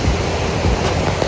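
A water stream flowing down from Rathna Ella waterfall, a loud, constant broadband rush close by, steady with no talk.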